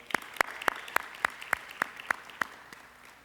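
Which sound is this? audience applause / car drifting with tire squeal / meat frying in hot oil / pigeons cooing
audience applause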